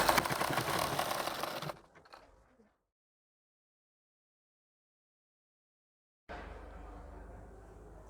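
A sewing machine runs in a loud steady whir while stitching a nauvari saree border, stops into silence for several seconds, then starts again at a slightly lower level.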